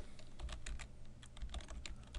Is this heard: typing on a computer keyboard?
yes